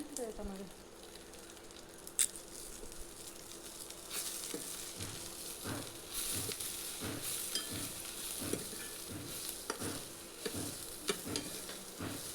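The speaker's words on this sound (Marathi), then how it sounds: "सुकं खोबरं रेड होईपर्यंत आपल्याला परतायचं आहे" Dry coconut is sautéed in a pan for misal, a quiet, steady sizzle with evenly spaced scraping strokes of a spoon stirring, close and faint with no voices.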